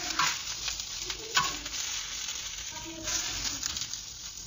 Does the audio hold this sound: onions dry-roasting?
yes